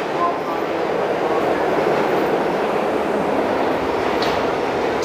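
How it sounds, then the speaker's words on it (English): A New York City subway train rumbles loudly and continuously up close, a dense roar of wheels and car noise with faint high squeals, filling the whole stretch without a break. "let me take a subway right here"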